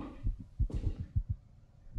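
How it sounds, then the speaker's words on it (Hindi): Heartbeat in a dark horror video game, a series of low, thumping pulses in quick pairs, close and muffled, repeating at an uneven pace. "दिल धड़कने की आवाज़ आ रही है"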